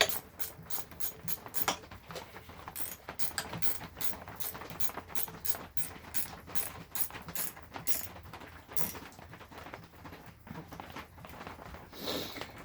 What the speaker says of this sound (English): I'm using my Craftsman ratchet wrenches.